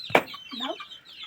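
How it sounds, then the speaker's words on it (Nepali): A rooster lets out a brief, close cluck followed by a couple of softer throaty notes. "कुखुराहरूको त्यो बाउ हो भाले"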